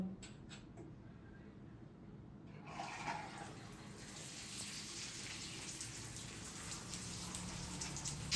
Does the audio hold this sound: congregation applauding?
no